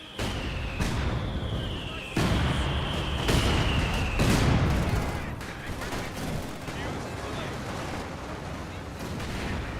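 Artillery barrage fire in a video game, with repeated broadband booming blasts and a steady rumble of battle layered over a falling whistle, loud and continuous across the scene.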